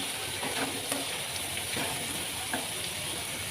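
Onions frying in a cooking pot for a Hyderabadi baingan dish: a steady, even sizzle with soft crackles and faint stirring clicks, held at a constant level with no talk over it.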